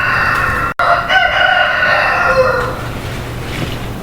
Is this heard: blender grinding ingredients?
no